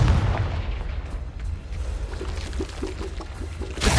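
A Confringo spell detonates in the game Hogwarts Legacy, a heavy booming blast with a low rumbling tail and scattered debris crackle, loud and close, flaring again briefly at the end.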